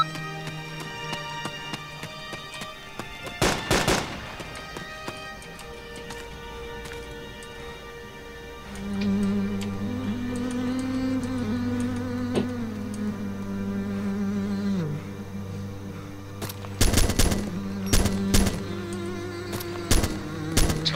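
Automatic and single gunfire bursts from a military shooter, Arma 2: Operation Arrowhead, set in a chaotic urban street fight, crackling in loud sharp clusters near the start and again toward the end over a steady droning background and tonal game noise.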